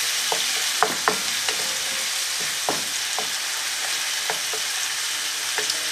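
A vegetable mixture of chopped leeks and other vegetables for vegetarian fried rice sizzles steadily in a pan, a dense hiss broken by a few sharp pops and scraping stirs, close and fairly loud with no talking.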